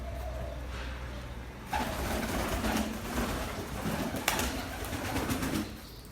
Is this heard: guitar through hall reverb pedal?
no